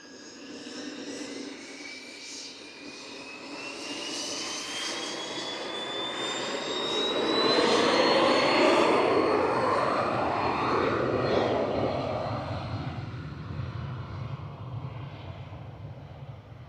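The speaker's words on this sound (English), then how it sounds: "Expect this citation will be rolling next." A Cessna Citation jet rolling for takeoff at Manchester Airport, its engine roar swelling to a loud peak mid-clip with a rising whine, then fading as it moves away.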